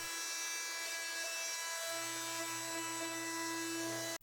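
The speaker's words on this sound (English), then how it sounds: "turns any multi-tool into a mouse sander" A steady, loud multi-tool whine with a mouse sander attachment rasping on wood throughout, deepening in pitch partway through, then cutting off abruptly at the end.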